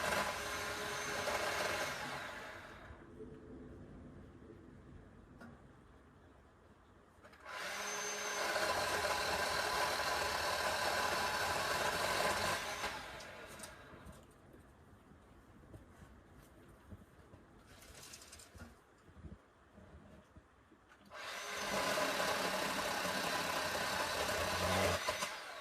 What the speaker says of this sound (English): It's time to see if this little Bauer will cut it down.